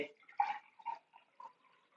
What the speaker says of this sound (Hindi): पानी लेते हैं, दोनों गिलास में क्या करते हैं, पानी लेते हैं, बराबर मात्रा में पानी लेते हैं।